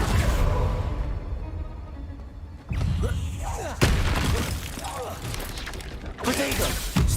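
A Confringo spell in the video game Hogwarts Legacy bursts with a booming impact and whooshing debris, amid mechanical game effects and several sharp hits.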